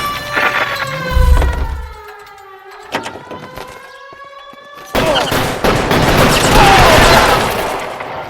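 Gunfire during a police car chase in the game L.A. Noire, loud bursts of shots and cracks mixed with a wailing siren and engine noise, intense and near throughout.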